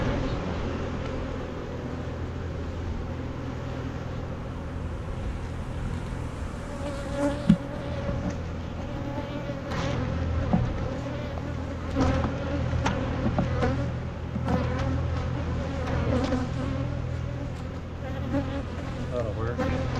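Dense swarm of honeybees buzzing steadily around hive frames packed with emerging bees during almond pollination, a continuous close hum with brief louder bursts as bees fly past.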